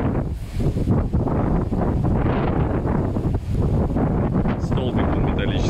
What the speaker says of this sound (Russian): Вот такие ветра бывают